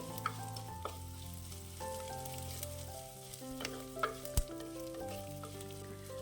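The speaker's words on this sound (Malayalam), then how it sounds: "ഇനി ചെറുള്ളി ഒന്ന് വഴറ്റിയെടുക്കണം" Shallots sautéing in hot oil in a pan for a tomato buttermilk curry make a continuous soft sizzle with occasional stirring clicks, faint and close, over a tonal background melody.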